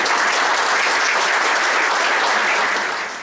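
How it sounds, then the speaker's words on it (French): Steady, dense applause from a crowd, sustained at even loudness throughout before easing slightly at the end. "je souhaiterais que nous nous applaudissions"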